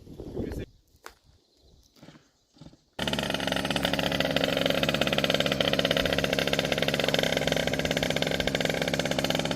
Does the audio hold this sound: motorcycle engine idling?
yes